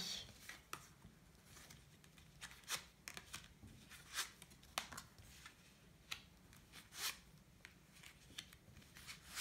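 Oracle cards turned over one by one on a table, producing soft, quiet papery flicks and snaps at irregular intervals with faint rubbing between them and no talking.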